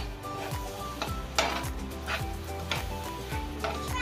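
Tapioca pearls stirred in a pot of brown sugar syrup, a spoon scraping and knocking against the pot in a steady repeating rhythm over a soft bubbling simmer.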